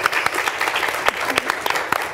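A crowd claps steadily for a couple of seconds at a live show, the applause dense and continuous with a few louder individual claps.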